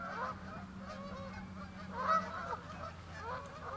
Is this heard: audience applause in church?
no